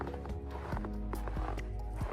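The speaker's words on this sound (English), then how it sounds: "it's that proper crunching underfoot snow" Footsteps crunch steadily through fresh overnight snow at Nuns Cross Farm, close and clear, each step a crisp crackling squeak in an even walking rhythm.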